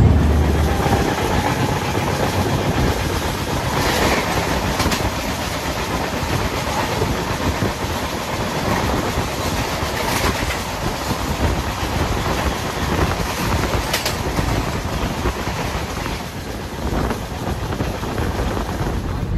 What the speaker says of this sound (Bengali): ট্রেন ছেড়ে দিয়েছে খড়গপুর।